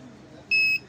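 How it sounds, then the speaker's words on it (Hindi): A UPS 12V board under repair for a battery-charging fault gives one short, steady electronic buzzer beep midway through, loud and clear over a low background hum. "अब बज़र का ऑप्शन मुसलसल बज रहा है"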